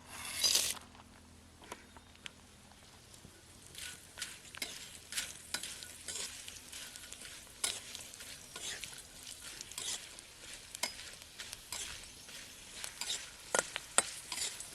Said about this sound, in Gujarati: હવે એને તળવો છે આપણે તળી નાખીએ